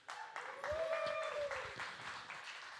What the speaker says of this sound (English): please clap it up for the band one more time